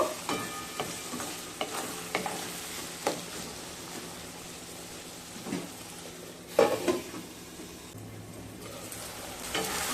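Spiced semolina with ginger paste and turmeric is stirred and fried in a pan. A steady close sizzle runs throughout, broken by repeated scraping strokes of the spoon, with no talk.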